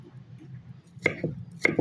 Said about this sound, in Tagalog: hiwain natin ng maliliit kabayan para malasap ang aroma